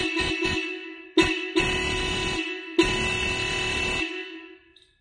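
Horn of a Hero Splendor motorcycle, tested after a relay repair, blares in several short and long honks with brief gaps between them, close and loud, then cuts off.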